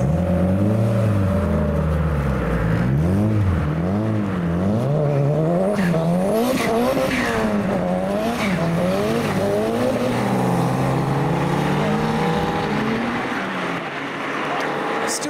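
A modified Honda Civic launches hard, its engine revving through rising and falling pitches as the tyres slip and squeal, loud and continuous, with a crowd and voices faintly underneath.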